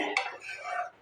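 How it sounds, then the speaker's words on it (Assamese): A spoon stirs a thick semolina sweet mixture in a pan, a brief soft scraping swish close by with no voices. "এতিয়া মই এইদৰে লৰায়ে থাকিম, নহ'লে তলত লাগি ধৰিব"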